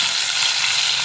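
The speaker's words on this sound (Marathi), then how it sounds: "कांदा फ्राय करून घेते" Onion frying in a pan of oil with whole spices and garlic for prawn rice, a steady close sizzle and crackle heard alone throughout.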